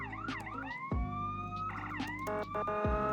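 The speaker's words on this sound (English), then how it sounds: "Here are all the sirens." Police sirens on a collector's car cycle through rapid electronic wails, yelps and warbles, loud and close, with abrupt switches between tones and no talking.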